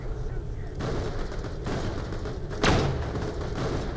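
Gunfire in the sci-fi shooter Borderlands: The Pre-Sequel, a handful of heavy thumping shots spaced apart with one louder blast, over a busy game background while someone talks.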